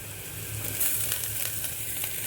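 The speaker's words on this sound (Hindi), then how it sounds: "तो अब मैं इसमें डाल रही हूँ अदरक" Ginger sizzles as it fries in a pan with lightly browned onions, giving a steady close hiss with faint stirring scrapes for a couple of seconds and no talking.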